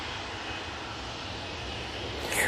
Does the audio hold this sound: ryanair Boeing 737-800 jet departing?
yes